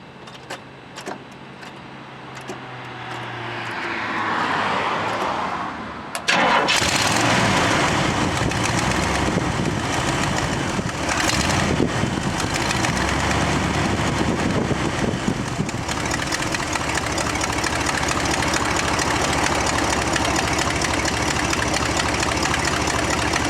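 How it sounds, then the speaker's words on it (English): A 1967 Buick Riviera on a mild morning: a starter cranks briefly, then the engine catches with a sudden loud burst and settles into a steady, rumbling cold idle that holds close and even to the end. "So here's a cold start."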